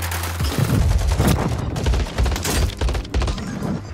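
Burst-fire DG rifle shooting in a Call of Duty game, loud rapid bursts of shots cracking in quick clusters, with thuds and booms of other gunfire mixed in across the whole stretch.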